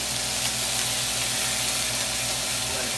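Salmon fillets with a squeeze of lemon sizzle and crackle in a hot pan, a loud, steady frying hiss with no voices.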